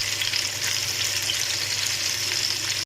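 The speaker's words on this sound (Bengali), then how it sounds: "ইলিশ মাছটাকে হালকা ভেজে তুলে নেব।" Hilsa fish pieces, rubbed with turmeric and salt, fry in mustard oil with a steady, close, loud sizzle that holds evenly throughout and cuts off sharply at the very end.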